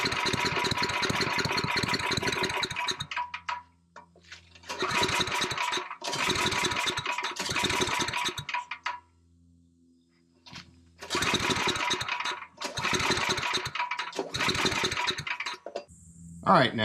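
A small generator engine runs after a carburetor high-speed screw adjustment, chugging in loud bursts separated by short drops to near silence, then surging again; a brief sound at the end.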